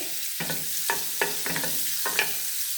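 Butter melting in a hot frying pan on the stove, a soft steady sizzle broken by about five distinct scraping stirs or clinks at even intervals, close and without talk.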